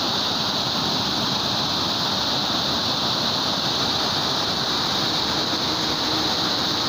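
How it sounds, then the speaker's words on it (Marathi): Fast-flowing river water where a fishing net is being set, a steady broadband rush that stays loud and unbroken throughout with no voices over it. "बघू शकता पाण्याची किती गती आहे"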